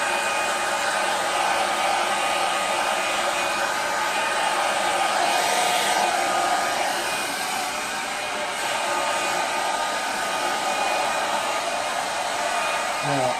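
A hair dryer blows steadily at close range for the whole stretch, clearing cut hair after a gentleman's fade haircut, a continuous loud rushing whir with a slight dip midway.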